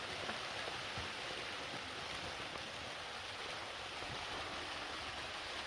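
Water leaks through a failed box gutter and ceiling, dripping onto a peeling, water-damaged shelf with a puddle forming below, heard as a steady, faint wash of dripping and trickling throughout.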